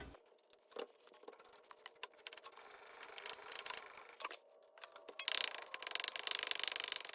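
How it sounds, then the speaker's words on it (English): Lower brake caliper bolt being loosened on a BMW E90 front brake, heard as quiet, close mechanical clicks and wrench ratcheting with scraping metal contacts, building to denser, louder clatter toward the end. "So let's get the caliper off first. Do this lower bolt."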